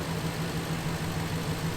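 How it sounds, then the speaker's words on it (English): A truck engine idles steadily just after a cold start during a Class 4 pre-trip inspection, a low continuous rumble with a constant hum running through the whole stretch. "You can see we've just started the engine"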